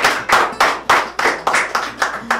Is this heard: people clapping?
yes